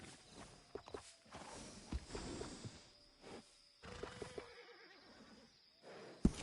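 Horse whinnies and hooves strike the ground in Red Dead Redemption 2, a few soft, scattered neighs and clops at moderate distance, fairly quiet, with no talking.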